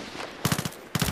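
Two short bursts of rapid automatic gunfire from Battlefield 3, each a quick rattle of several shots separated by a brief pause, loud and close.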